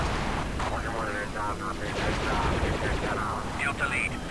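Plasma blaster fire in Star Wars: Republic Commando rattles in rapid bursts amid loud battle noise, with someone shouting and game voices talking over the shooting throughout.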